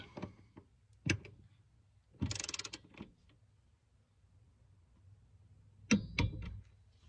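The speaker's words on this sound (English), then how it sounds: "grab your torque wrench, 27 foot-pounds" A torque wrench tightens seat bolts to 27 foot-pounds on a Toyota Tundra or Sequoia seat install, with sparse metallic clicks and a rapid ratcheting burst, then a pair of sharp clicks near the end, close and otherwise quiet.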